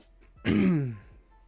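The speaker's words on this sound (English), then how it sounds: "I keep clearing my throat right in the microphone" A single close, loud throat clearing, a short rough rasp lasting about half a second amid quiet surroundings.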